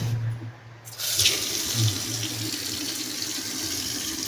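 Water rushes from a newly installed sink faucet in a steady close hiss that starts just after a second and continues loud and unbroken.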